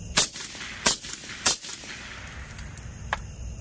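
Rifle shots fired through a YHM Turbo K suppressor into a berm outdoors, three sharp cracks about two-thirds of a second apart, close and loud, followed by a fainter fourth report.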